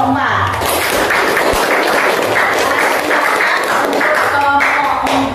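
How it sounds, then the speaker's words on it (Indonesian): A classroom full of students claps steadily for a group that has just presented, a loud, dense applause that carries on unbroken for several seconds. "Kita beri aplaus lagi untuk kelompok 4"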